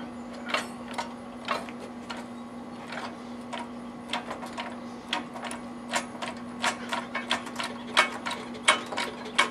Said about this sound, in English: I'm going to go ahead and jack it up before I latch those down.